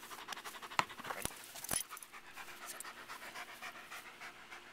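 A German Shepherd pants quickly and rhythmically close by, soft steady breaths running throughout, with a few sharp clicks and thumps breaking in near the start.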